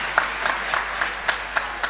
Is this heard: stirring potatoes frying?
no